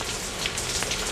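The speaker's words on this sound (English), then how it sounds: "It's raining, obviously." Steady rain falls at night in Dhaka, a dense, even hiss of drops on surfaces with no voices, loud and continuous throughout.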